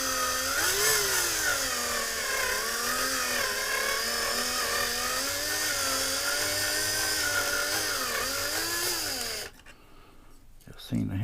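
A small drill whines steadily up close while boring out a rivet on a die-cast Matchbox Olds Vista Cruiser toy car, its pitch wavering slightly before it stops abruptly near the end.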